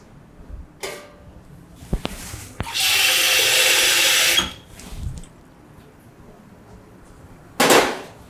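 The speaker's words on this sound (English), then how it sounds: "We get a bit of water." Water poured into a hot pan of fried onions, garlic and dry spices for a coconut peanut curry, giving a loud, steady sizzling hiss for about two seconds, with scattered kitchen knocks before and a short burst of sizzle again near the end.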